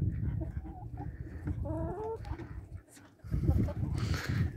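Several hens cluck close by, with short rising calls and low murmuring, mixed with shuffling noise; a brief quieter pause before the clucking resumes.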